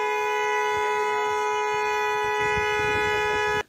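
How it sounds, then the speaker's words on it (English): A car horn honked at a protest rally blares continuously for several seconds, loud and unbroken, then cuts off abruptly at the end. "asking supporters to honk their horns to get the government's attention"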